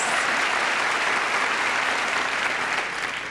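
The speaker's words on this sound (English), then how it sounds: "Applause for 2 years." Dense, sustained audience applause fills a comedy club during a 1990 stand-up special, a steady wash of many hands clapping at full loudness that eases slightly near the end, with no voices on top.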